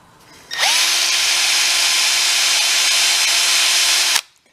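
A drill bit grinds against a hardened, welded broken stud in one steady, loud, continuous whine of about three and a half seconds, starting and stopping abruptly with no talk.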